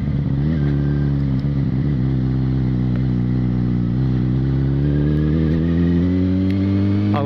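A Yamaha XJ6 motorcycle accelerating hard through the gears, its engine loud and close with a steady rising drone and a brief shift dip early on, no talk over it.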